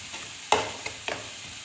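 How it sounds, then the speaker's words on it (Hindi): Whole white cumin seeds fry with green garlic in a pan: a steady low sizzle with a few sharp stirring scrapes, each standing out from the background hiss. "ये साबुत सफ़ेद ज़ीरा है, इसको भी इसके साथ फ्राई करेंगे"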